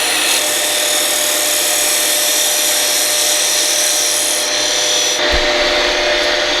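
A wood lathe spins steadily as a roughing gouge cuts into the turning workpiece, giving a continuous loud whirring, scraping hiss throughout, with a brief dull knock near the end.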